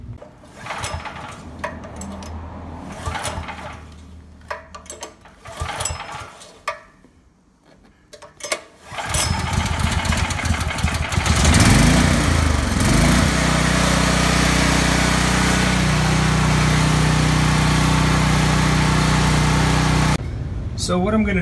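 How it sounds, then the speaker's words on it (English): A portable generator cranks and catches, then runs at a steady loud drone that continues for about twelve seconds, preceded by clattering setup noises and a brief quiet stretch. "now that the generator started"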